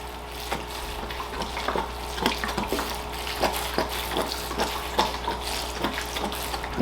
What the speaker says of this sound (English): And there we got some water pouring out.